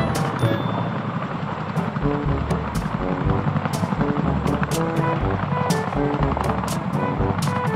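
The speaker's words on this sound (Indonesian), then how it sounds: "Ini ada helikopter transportasi militer." A military transport helicopter drones steadily with a dense rotor clatter and sharp metallic ticks running throughout, loud and continuous.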